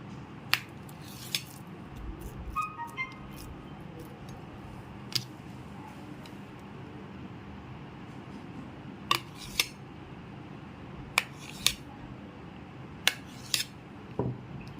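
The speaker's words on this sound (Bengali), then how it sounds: "আমি এখানে পনিরটাকে একটু টুকরো টুকরো করে কেটে নিচ্ছি।" A knife cuts paneer into pieces, giving sparse, sharp taps and clicks against the board at irregular intervals over a quiet kitchen background.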